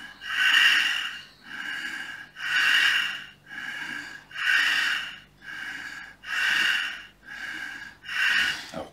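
Forceful rhythmic exhalations during a hatha yoga breathing exercise, about seven sharp, breathy nasal puffs at an even pace, close and clear with no talking.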